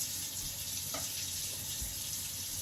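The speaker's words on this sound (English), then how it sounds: "Let's turn our water off." Water running steadily from a tap, a faint continuous hiss with no voices.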